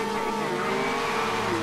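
A Lamborghini Aventador and a Ferrari LaFerrari at a race start in Forza Horizon 2, engines holding a loud, steady roar with sustained tonal whine, close and continuous with no talk over it.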